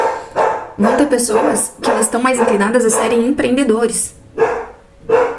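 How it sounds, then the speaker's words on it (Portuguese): A dog barks in short repeated bursts in the background while someone speaks continuously over it in Portuguese. "olha o cachorro latindo aí."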